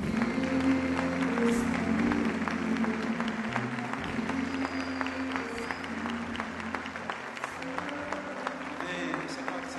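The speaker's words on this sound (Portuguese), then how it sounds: "Vamos dar um aplauso ao Espírito Santo." A church congregation applauds in praise, a steady dense clapping from a large crowd that holds at a fairly even level throughout, with faint voices and a low background hum beneath it.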